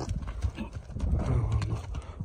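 A Kyrgyz horse walks at a moderate, fairly close distance, its hooves making soft, irregular thuds and clops on the ground. Faint rustling sits underneath, and no one speaks.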